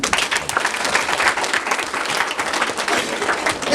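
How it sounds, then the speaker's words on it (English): A dense burst of audience clapping in a hospital lecture session on mental health and yoga for nurses and doctors, many hands blending into a loud, continuous wash of applause for a few seconds. "Give a clap all of you."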